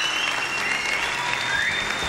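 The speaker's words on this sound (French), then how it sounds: "Messieurs, applaudissements pour Anthony Delon et Patrice Carmouze." Dense, sustained applause from a French TV studio audience, loud and even, with a faint tonal hum running underneath.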